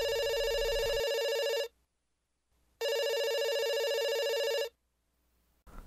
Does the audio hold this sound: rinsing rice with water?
no